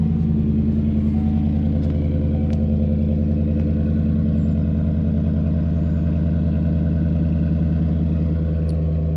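Chevrolet Silverado (2007–14) pickup fitted with an aftermarket eBay exhaust kit, rumbling steadily with a deep, loud low-end drone for nine seconds, close by and with no talk.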